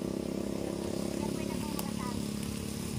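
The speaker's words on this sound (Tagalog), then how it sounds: "Motor ko yung motor na yun." A motorcycle engine drones steadily close by, holding an even low buzzing throb, while a faint voice can be heard over it.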